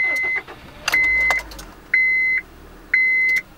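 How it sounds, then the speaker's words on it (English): A 2002 Honda Civic with a bad ECM idles in limp mode; a dashboard relay gives sharp clicks over a low engine hum, and a beeping tone repeats about once a second. "So when you start it up, it runs, but it starts clicking. The relay in the under the dashboard clicks"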